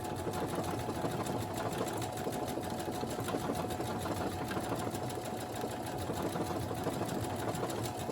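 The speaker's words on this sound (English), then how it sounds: "I'm going to put it underneath the foot. And I'm going to start sewing." A Brother SE1900 sewing machine stitches fabric in a steady, fast, continuous mechanical whir, close and loud with no talking.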